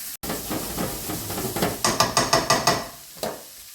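Finely chopped white onion hitting hot bacon fat on a hob, a loud steady sizzle and hiss with a run of rhythmic clattering knocks partway through.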